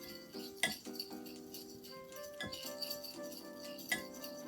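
Softened butter is stirred in a bowl for cookie dough, with a utensil clinking and tapping against the bowl in irregular, close, light knocks over a quiet background.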